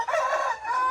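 A rooster crows close and loud, a single sustained call filling the whole second with no other sounds around it.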